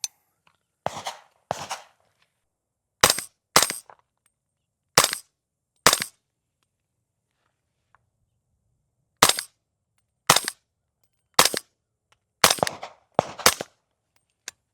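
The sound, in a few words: suppressed Daniel Defense PDW 300 Blackout rifle shots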